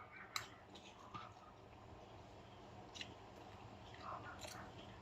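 Someone chews a mouthful of pork adobo cooked with banana blossom, with quiet, close crunches and wet bites at irregular intervals over low room hiss.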